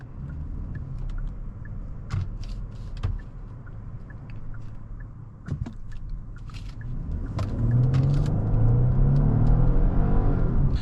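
A 2026 Genesis G90 engine accelerates hard, a steady low rumble rising into a swelling, climbing drone near the end, with a few sharp clicks and bumps inside the cabin and no talk.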